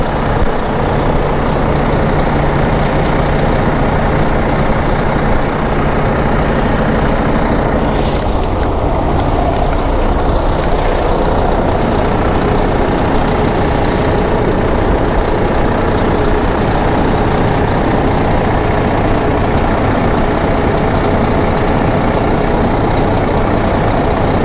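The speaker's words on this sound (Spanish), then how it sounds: "te dejo con el sonido para que lo escuches el motor y lo veas" A used Kenworth semi-truck engine runs steadily at idle, a loud close diesel rumble that continues throughout, with a brief hiss of air around the middle.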